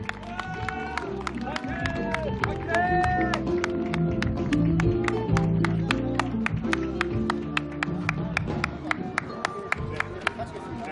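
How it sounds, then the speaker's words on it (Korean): An audience at a Korean alumni association sports day in Guri's municipal stadium applauds the association president: a steady stream of sharp claps runs throughout, mixed with tonal background sound and a voice. "우리 회장님에게 여러분 다시 한번 큰 박수를 부탁을 드리겠습니다"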